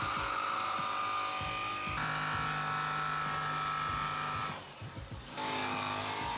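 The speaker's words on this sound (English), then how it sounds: "I had to tilt the jigsaw to get it to cut, not make the radius." Jigsaw cutting a window opening through a Ram ProMaster van's sheet-metal wall, a loud continuous buzzing rasp that shifts pitch, breaks off briefly near the end, then resumes.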